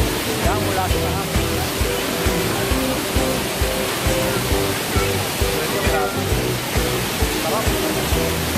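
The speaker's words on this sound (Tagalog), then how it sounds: "Guys, nandito ako ngayon sa pinagbabagsakan ng falls." Taytay Falls in Majayjay, Laguna pours into its plunge pool with a loud, steady roar of crashing water, broad and close, while voices talk underneath in places.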